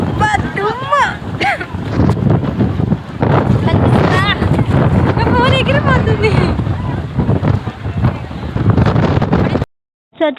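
Strong gusty wind blows outdoors ahead of rain, roaring and buffeting the microphone loudly while people talk and chatter beneath it, before cutting off abruptly near the end.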